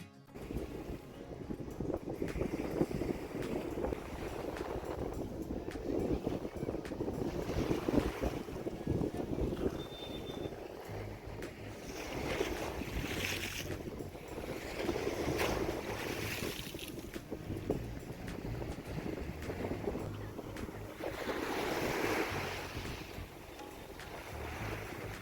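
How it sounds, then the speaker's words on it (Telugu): Sea surf rolling onto the shore at Villondi Theertham near Rameswaram, a steady broadband wash with gentle swells, heavy wind buffeting the microphone throughout and no voices. "ఇప్పుడు ఇక్కడ వస్తున్న సముద్ర శబ్దాన్ని వినండి"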